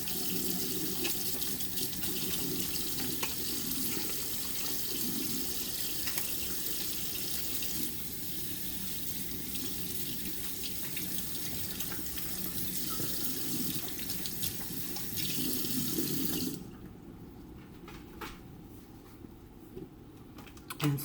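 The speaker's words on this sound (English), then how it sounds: "I'll wash them again just because" A kitchen faucet runs steadily while hands are washed under it, a close, continuous rushing splash for most of the time before the water shuts off, leaving faint clicks and handling.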